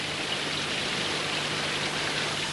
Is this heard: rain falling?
yes